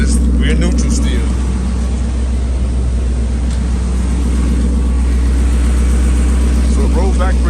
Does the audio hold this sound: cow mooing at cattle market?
no